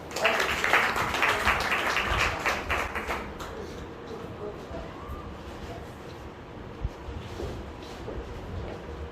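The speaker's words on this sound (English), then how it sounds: "Big round of applause." A crowd at a school farewell event applauds loudly for about four seconds, dense clapping that thins out into scattered claps and room murmur with voices.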